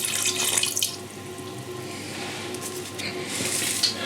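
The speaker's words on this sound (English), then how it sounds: "So I'll pour a bit of water in there." Water runs from a tap or is poured into a gesso mix for a large canvas, a steady close splashing stream that swells slightly toward the end, with no one speaking.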